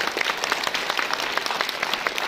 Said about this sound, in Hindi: इनके लिए जोरदार तालियां सभी लोगों के लिए